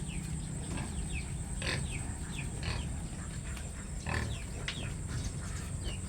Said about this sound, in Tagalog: Nag-aagawan yung mga biik.